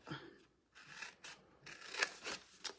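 Scissors snipping through paper along marked lines for a craft project, a series of short, crisp cutting strokes with brief pauses between them, fairly quiet and with no talking.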